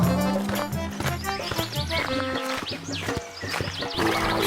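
A horse-drawn carriage rolls along with rhythmic hooves and an occasional whinny, mixed under loud animated cartoon music and effects.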